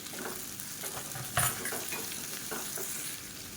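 Close, steady sizzling as chopped tomatoes are sautéed in a pan with mint and coriander leaves, with one louder scrape of stirring midway through the short burst.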